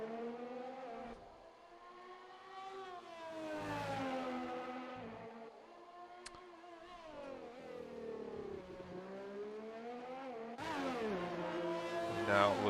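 Ferrari Formula 1 car engine in the F1 2020 racing game, heard on board at the Australia circuit. A loud, continuous high-pitched whine rises and falls through repeated gear changes and acceleration, with no talk over it.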